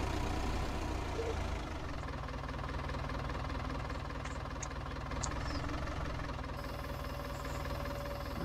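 A farm tractor's engine works steadily, a close, continuous knocking diesel rumble that holds an even level with little variation and no talking.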